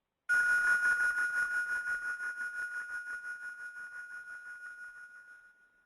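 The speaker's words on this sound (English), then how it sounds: "I'm going to ring a bell so we set the tone here in the beginning of our call" A single bell is struck once to open a group call. Its bright, clear tone rings out and fades slowly over several seconds with a gentle wavering shimmer, and no voices are heard.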